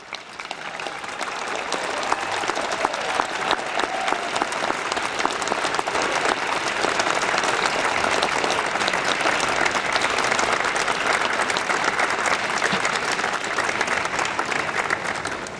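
Graduation audience at a law school commencement applauding vigorously, steady dense clapping that swells after a moment and holds for the whole stretch, without speech.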